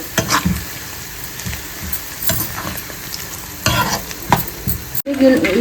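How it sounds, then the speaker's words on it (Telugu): Ginger pieces frying in oil in a pot for ginger pickle, steady sizzle with repeated scraping stirs throughout and a brief clatter near the end. "అవి ఎలాగో ఫ్రై అవుతున్నాయి కదా పక్కన అల్లం ముక్కలు"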